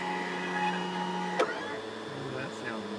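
A 3D printer extrudes filament to prime its nozzle, giving a steady mechanical whir of stepper motors close by, with a brief tap partway through.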